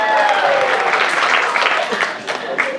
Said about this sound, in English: Round of applause for Rosie, she has Lotte